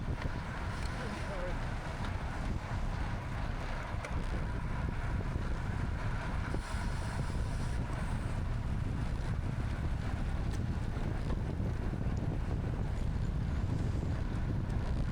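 Steady headwind buffeting the microphone of a racer tucked low during a criterium cycling race, a continuous loud low rumble running unbroken throughout.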